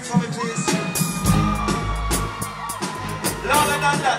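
A concert crowd at a large outdoor dancehall show yells and whoops in loud swelling waves, the cheering rising and falling from a distance while amplified sound rings over it.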